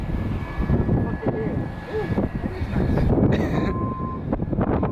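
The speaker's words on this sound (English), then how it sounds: "And it's an A350. Coming from Paris." An Airbus A350 airliner from Paris at Atlanta airport, its engine roar a broad continuous rumble with a rising whine, heard under people talking close by.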